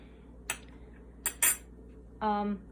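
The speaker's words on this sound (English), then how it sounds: "So put the spoon in, don't burn yourself, but make sure that way it's sanitized." A metal spoon clinks against a pot while making kombucha: three short, sharp metallic clinks, then a longer ringing scrape near the end, close and fairly loud over a quiet kitchen background.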